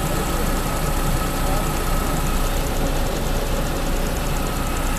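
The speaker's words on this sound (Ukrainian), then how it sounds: "Двигун працює рівненько, гарно" A car engine idles steadily with a continuous low rumble and faint rhythmic valve ticking, close by, with no talk over it.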